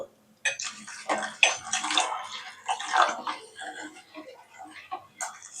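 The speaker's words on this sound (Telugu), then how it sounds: "కొద్ది నీళ్ళు కలుపుకుంటున్నాను," About half a glass of water poured into a thick besan batter for pea Bombay chutney, a close, splashing trickle in uneven bursts that stops briefly before a final splash.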